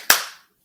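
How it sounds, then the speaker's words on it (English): A single sharp hand clap rings out close and loud, then decays quickly into silence. "Just clap my hand."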